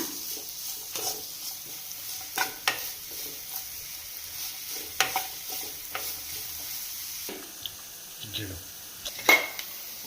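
Green chilies and capsicum sautéed in a pan, with a spoon clattering and scraping against the metal in irregular strokes over a low, continuous sizzle.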